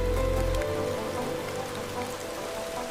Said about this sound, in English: The rain had softened, drizzle threading silver against the glass.